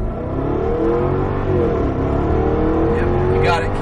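A Jaguar sports car accelerating at full throttle from a stop on a driving course, the engine loud and close, its pitch climbing steadily, briefly dipping at a gear change, then rising again.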